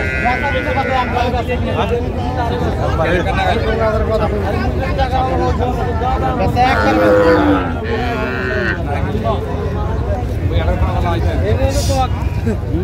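Cattle moo repeatedly amid a noisy livestock market crowd of buyers haggling, low bellowing calls of Sahiwal bulls mixing with loud overlapping voices of people talking nearby, in Brahmanbaria, Bangladesh.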